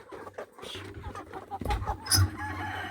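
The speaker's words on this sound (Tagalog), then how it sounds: "Nandoon yung mga inahin ko." Native-breed hens cluck in a steady, close chorus, with a louder burst of clucking and a sharp squawk near the end.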